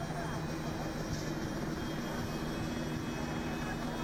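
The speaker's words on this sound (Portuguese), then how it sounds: "A polícia agora coloca o helicóptero Águia para sobrevoar o local." Police Águia helicopter flying over a street protest: a steady, distant engine drone with a high whine, low and continuous throughout.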